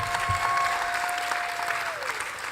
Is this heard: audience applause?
yes